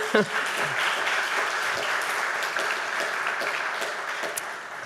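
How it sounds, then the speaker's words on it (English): Steady audience applause fills a literary prize ceremony hall, a dense, continuous patter of many hands clapping at moderate volume, with faint voices scattered underneath. "Ben, yeah, more clapping"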